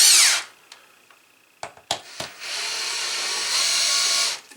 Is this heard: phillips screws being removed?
yes